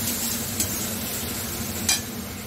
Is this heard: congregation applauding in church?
no